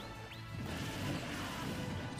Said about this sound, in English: Super smashed him out.